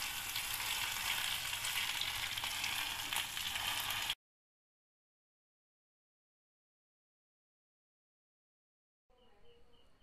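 Omelette frying in a pan, a steady broadband sizzle for about four seconds that then cuts off to silence, with a brief faint return near the end.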